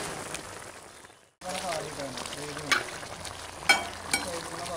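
Pork pieces frying and being stirred in a pan, with drumstick bark added: a steady close sizzle with scraping stirs, a brief silent gap, then louder sizzling with sharp clatters of the spoon against the pan.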